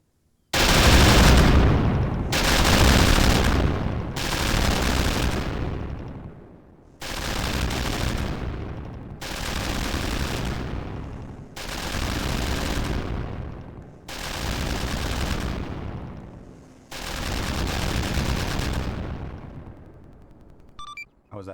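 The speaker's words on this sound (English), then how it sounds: "Firing." Sustained heavy gunfire in the military video game Arma 3, long loud bursts of a few seconds each, repeated about eight times with short gaps, close and unaccompanied by talk.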